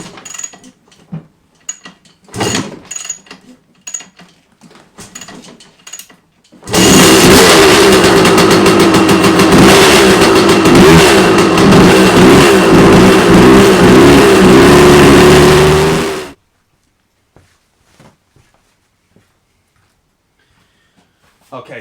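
A 1990 KTM 250MX two-stroke motorcycle engine with the choke on fires up and runs loudly and close for about ten seconds, then cuts abruptly, with scattered handling noises before and after.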